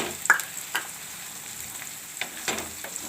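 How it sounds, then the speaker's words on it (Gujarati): Carrots and peas sizzle in hot oil in a pan after browned onions, with a steady low fry hiss punctuated by a few sharp crackles and stirring clinks, close and fairly quiet. "તો ગાજર વટાણાને આપણે તેલમાં સડવા દઈશું."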